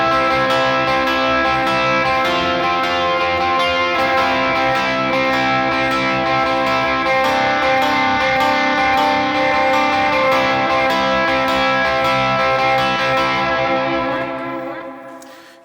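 Electric guitar on the bridge pickup plays a sustained, distorted chorus part drenched in reverb and delay, dense ringing chords layering loud and continuous before trailing off at the end, with no talk.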